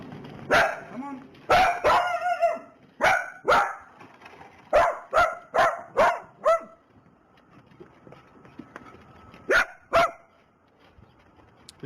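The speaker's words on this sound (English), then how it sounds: "What's the little guard dog?" A small guard dog barks in a residential yard, about a dozen sharp yaps in uneven bursts, some loud and close, with a pause of quieter background and faint voices before two final barks.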